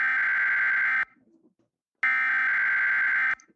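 Two loud electronic alarm tones of a nuclear attack warning, each a flat steady buzzing blare lasting about a second, separated by a short near-silent gap.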